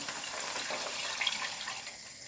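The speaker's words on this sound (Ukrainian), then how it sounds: "і виливаю сюди води." Water splashing and rushing into a hot frying pan with a bouillon cube, a steady hiss close by for a couple of seconds, with no talking.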